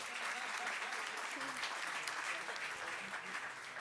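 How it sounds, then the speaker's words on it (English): Seminar audience applauding table leaders at a corporate event, a broad steady wash of clapping from a sizable room with faint voices mixed in underneath, heard at a fairly low, distant level. "I want to give them applause in forehand, please."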